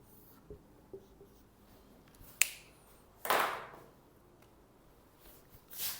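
Chalk on a board during a physics lesson makes a few sparse, quiet taps followed by sharper scratchy strokes, intermittent and close, with no talk.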